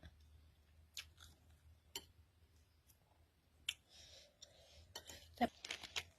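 Someone eats a meal of braised pork leg rice, making quiet, close chewing and biting noises with sparse clicks of cutlery, and a voice is briefly heard.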